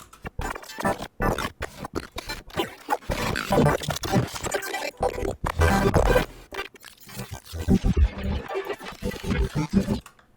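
A glitchy sample resynthesized through a synth carrier for color bass plays as stuttering, choppy bursts of growling, gritty tone broken by abrupt cuts and silences, loud and irregular with no talk.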